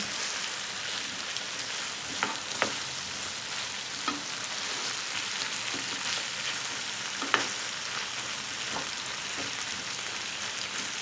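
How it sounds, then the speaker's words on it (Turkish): Zucchini and minced meat sizzle loudly in a pan after water is added, a dense, steady hiss like heavy rain with scattered sharp pops and crackles throughout. "Biraz su ekleyeceğim. Şöyle bir, bir buçuk su bardağı kadar"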